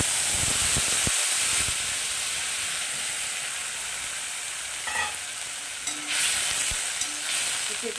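Chopped papaya dropped into hot oil with panch phoron tempering for a Bengali papaya chutney, a steady sizzle and hiss of frying with occasional stirring clatter, close and unbroken.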